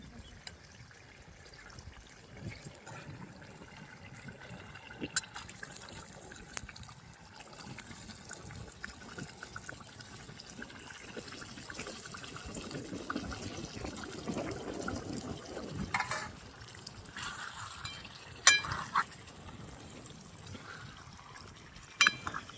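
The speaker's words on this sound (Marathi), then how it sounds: "पाणी ओतून घेते." Water poured into a pan holding fish, a steady low trickle and splash running through most of the stretch, fairly faint, with a busier pour near the middle and some scattered clatter.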